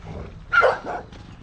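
Dogs at a gate bark in a brief close burst, one sharp bark standing out over softer yips and grumbles, with no talking over them.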